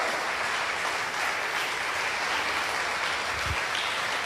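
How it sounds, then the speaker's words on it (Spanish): A church congregation claps their hands in praise to the Lord, a dense, steady wash of applause filling the room without pause. "Dele fuerte las palmas al Señor."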